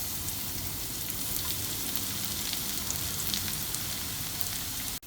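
Cumin seeds and garlic sizzling in hot oil in a pan, a steady, even crackle and hiss with faint pops running throughout and no talking.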